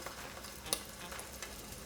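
An oyster drops into frying oil heated to 375 degrees and sets off a steady, quiet sizzle and bubbling, with one brief sharper pop near the start.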